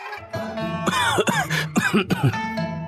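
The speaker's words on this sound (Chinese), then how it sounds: "顿时咳嗽起来" A person coughs several times in quick, rough bursts, close up, with some throat clearing mixed in.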